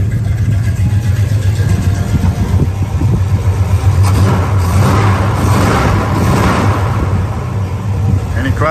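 A muscle car's engine runs with a steady low exhaust rumble throughout, swelling briefly mid-clip as if lightly revved, with background noise and some voice-like sound over it.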